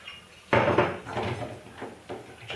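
A maple syrup and bourbon marinade being stirred in a bowl, with a sharp clatter of a utensil against the dish followed by a few softer scraping knocks, close and brief.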